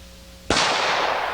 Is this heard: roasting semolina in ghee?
no